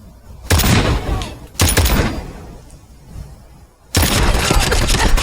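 Gunfire from a .50AE IMI Desert Eagle mod in Fallout 4: three loud, sharp shots with booming reports, each ringing out and decaying, spaced roughly every second or two with short quiet gaps between.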